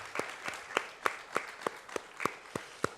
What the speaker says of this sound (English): Could you please give them a collective round of applause